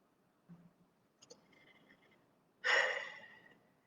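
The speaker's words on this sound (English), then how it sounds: "Taking some deep breaths" Slow, deep breathing during a guided meditation: a couple of faint soft breaths, then one long, loud airy exhale close by, with no talking.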